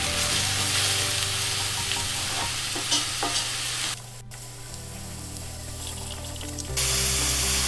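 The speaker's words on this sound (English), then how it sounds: "Next we're going to have 1 chopped garlic clove. I'm just going to cook this off for about a minute." A chopped garlic clove sizzles and fries in a Dutch oven, with steady close crackle and a couple of stirring clinks; the sizzle drops briefly midway, then returns louder.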